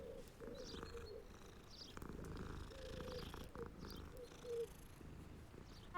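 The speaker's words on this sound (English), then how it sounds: "I can pet the cat." Cat purring steadily as it is petted in the Hogwarts Legacy video game, a soft continuous rumble with faint bird calls and game ambience behind it.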